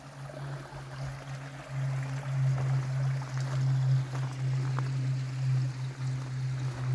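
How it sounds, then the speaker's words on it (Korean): Water flowing in a mountain valley stream, heard as a continuous rushing wash with a steady low hum underneath, moderately close and with no voices. "계곡 물을 흐르는 소리"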